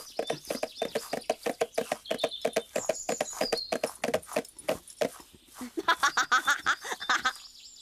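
Hooves clip-clop in quick, regular beats close by, pausing briefly and then resuming in a faster burst, with faint bird chirps in the background.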